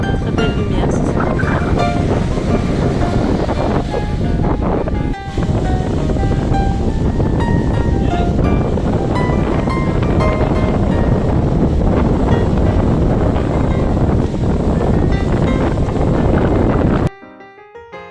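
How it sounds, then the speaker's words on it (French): Strong storm wind roars across an outdoor wooden house construction site, a loud, continuous broadband rush with surf-like swells that runs almost the whole time before cutting off abruptly near the end. "C'est le grand vent."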